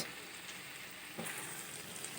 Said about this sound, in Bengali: খানিকটা ভাজা হলো তুলে নিচ্ছি এবার